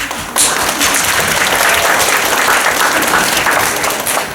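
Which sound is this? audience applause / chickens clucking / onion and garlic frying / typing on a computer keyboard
audience applause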